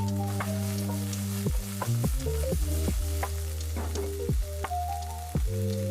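Onion and garlic sauté in a pan as a spoon stirs them, with a steady sizzle and repeated scraping strokes. A loud, continuous hum or tone runs underneath throughout, and no one speaks.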